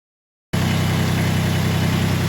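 Massey Ferguson GC1723EB compact tractor fitted with a backhoe, its engine idling with a steady, even low throb that starts abruptly after a half-second of silence and holds close and loud.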